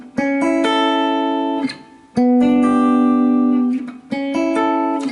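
A guitar strums a repeating two-chord pattern, each chord ringing bright and sustained before the next, loud and clear with no talking.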